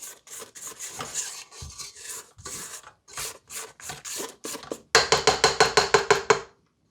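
Spatula scraping down the bowl while mixing white chocolate mousse ingredients, a series of close rasping strokes followed by a fast, louder run of rhythmic scrapes near the end.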